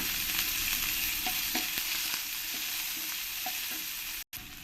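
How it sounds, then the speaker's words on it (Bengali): Sliced onions frying in hot oil with whole spices and chillies, a steady close sizzle with a few soft stirring clicks and a brief dropout near the end, no talking. "এবার আমি যে পেঁয়াজগুলো কেটে রেখেছিলাম পেঁয়াজগুলো দিয়ে ভালো করে বেজে নেব"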